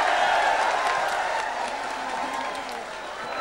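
Audience applause and crowd noise fill a boxing arena after a Thai boxer's title-belt victory, a dense, steady wash of clapping that is loud at first and eases slightly, with faint voices mixed in.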